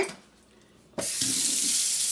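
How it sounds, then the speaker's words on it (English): A kitchen tap turns on and water gushes loudly into a sink for washing corn, a steady close rush after a quiet start. "I'm going to take it over here and wash these corn out"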